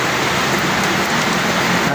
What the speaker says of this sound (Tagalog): medyo humina na rin yung ulan